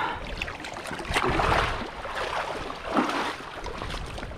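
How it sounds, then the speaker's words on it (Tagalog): Strong river current flowing, a close rushing and churning of water with swelling surges, moderately loud and without talk. "Lakas ng agos banda rito ah."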